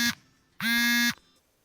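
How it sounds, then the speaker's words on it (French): An alarm buzzes in two bursts, a short one followed by a longer half-second blare, harsh and electronic with a steady tone, then quiet. "L'alarme qui sonne pour me dire de me réveiller."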